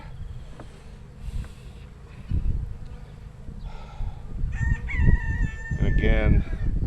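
Honey bees buzz over a hive frame in a small nucleus colony, a close, steady drone that rises in intensity, with a rooster crowing in the background near the end.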